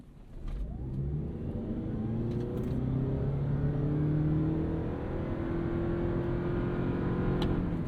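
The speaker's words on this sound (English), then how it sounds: "this is a CVT, so I'm just going to mat the throttle," A 2026 Toyota Prius PHEV plug-in hybrid with a CVT accelerating at full throttle from a standstill, its engine droning steadily as the pitch climbs gradually and smoothly, heard from inside the cabin.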